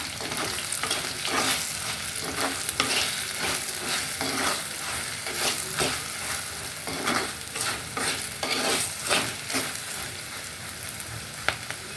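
Chilli powder and asafoetida being stirred in a frying pan, with repeated spoon scrapes and a constant sizzle running underneath at close range for the whole stretch.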